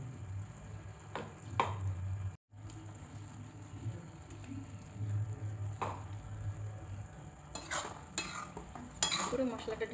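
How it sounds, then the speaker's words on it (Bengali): A spoon stirs ground mango pickle spice paste in a pan for a sweet mango achar, giving soft intermittent scrapes and scuffs over a low steady hum, with a brief dropout early on and a few sharper scrapes near the end. "এবার নাড়াচাড়া করে নিতে হবে"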